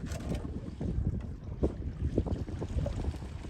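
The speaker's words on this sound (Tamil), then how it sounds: "தூரத்தில் ஒரு போட் ஒன்று போய்க்கொண்டிருக்கு பாருங்க" A boat travelling far off at sea, heard as a low, steady rumble blended with gusty wind buffeting the microphone, with no voices.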